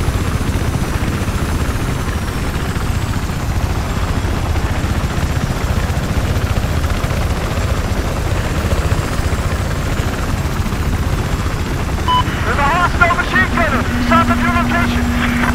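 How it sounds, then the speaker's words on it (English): Helicopter rotor and engine noise from the Battlefield 4 video game, a steady loud chopping drone running throughout, with a brief higher-pitched whine near the end. "the chopper may not last much longer"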